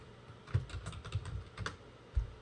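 Fingers tap keys on a computer keyboard in a quick run of close, clicky strokes with a heavier thump at the end, and no one speaks.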